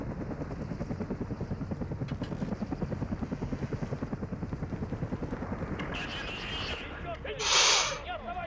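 A helicopter in Call of Duty: Modern Warfare (2019) hovers nearby, its rotor blades chopping in a fast, steady pulse that stays loud throughout, with a short hissing burst near the end.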